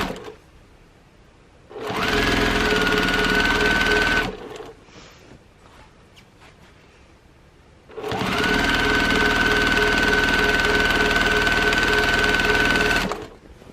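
A sewing machine stitches binding onto the edge of a sampler quilt in two sustained runs, each a steady near whir with a quiet pause between.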